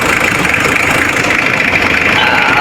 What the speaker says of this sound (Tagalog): So ito yung andar ni Adventure ngayon